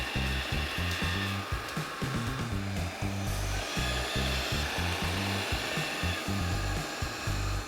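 An Ecovacs Deebot T30 Pro Omni robot vacuum sucks up scattered debris like sugar, salt, dust and tangled hair, making a steady close whirring hum over a rhythmic low thumping rattle.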